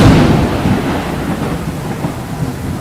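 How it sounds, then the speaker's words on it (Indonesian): Heavy rain pours at night in a spooky animated cartoon, with a dense, loud, continuous hiss and rumble that fills the whole clip, no voices present. "hujan yang lebat pada malam itu benar-benar membuat udara sangat dingin di tempat itu"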